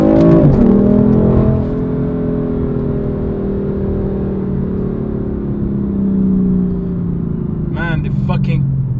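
BMW M4 Competition engine, loud and close, a sustained high rev that eases slowly downward and settles into a steady drone, then a short burst of sharper sound near the end.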